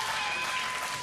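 Wrestling crowd at a Mid Atlantic event cheering and applauding as a steady wash of clapping and noise, with no distinct voices standing out.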